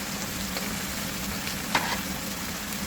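Pork adobo with brown sugar sizzles in a pan in a constant close crackle, with a faint scrape or two of stirring and no talk.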